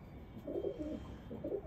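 A pigeon held for sale gives a faint, brief low coo, two soft rolling phrases heard close by over a quiet background.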